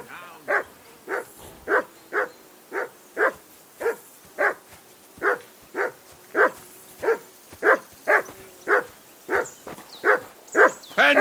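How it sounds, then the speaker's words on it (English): A dog barks again and again in Kingdom Come: Deliverance 2, about sixteen loud, evenly spaced barks close by with no voices in between. "Call that dog to heel."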